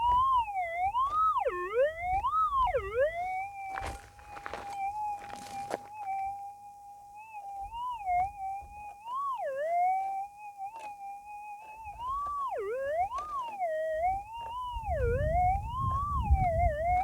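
Metal detector used for gold prospecting in the Western Australian Outback gives a continuous warbling tone that rises and falls in pitch as the coil sweeps over the ground, with occasional scraping and handling noises beneath it.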